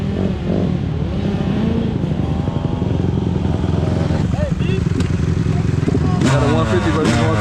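A 250 two-stroke dirt bike motorcycle engine drones steadily and bogs under load, roaring continuously with rough uneven revving while people talk over it.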